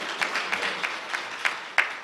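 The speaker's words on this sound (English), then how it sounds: "Coach Carnell Maynard, please give him a warm round of applause." Scattered, light clapping from a small audience at an athletics director press conference, a few distinct claps over a soft wash of applause, fairly faint.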